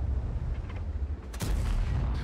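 Tank cannon shots ring out in World of Tanks, a low rumbling battle bed broken by one sharp, loud blast near the middle, followed by a deep booming tail.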